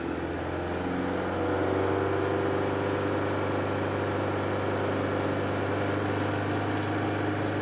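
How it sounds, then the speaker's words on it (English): A 2001 Saturn Coupe engine that barely runs, revving up steadily from idle into a loud, sustained drone that holds close and strong with no talking. "Let's rev it up a little bit."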